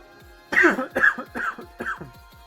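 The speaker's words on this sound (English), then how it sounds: "Sorry about the cough." A man coughing close to the microphone during a World of Warcraft livestream, four harsh coughs in a quick rhythm that grow slightly weaker, with no speech.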